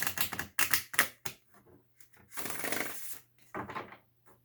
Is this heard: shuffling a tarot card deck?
yes